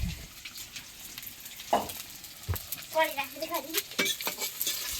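Onions frying in a pan at home, stirred with a spatula: a low sizzle with scraping strokes and a few clinks of metal, moderately close, with no talk.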